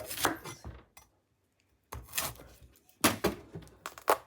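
A knife chops bitter gourd for a mild soup in three bursts of quick, close thuds on a board, with a short silent pause between the first and second bursts.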